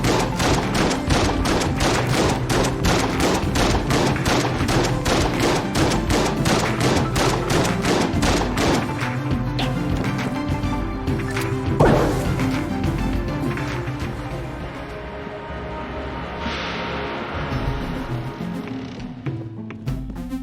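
Dense, rapid gunfire bursts from an angry shopkeeper's bullet attack in Enter the Gungeon, a loud continuous volley of shots with thumps that thins out toward the end.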